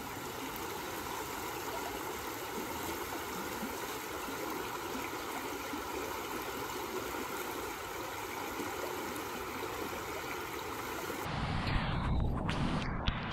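Steady, close rush of a flowing stream where a turtle was found, an even broadband babble of water running continuously, ending with a few louder splashy disturbances near the end.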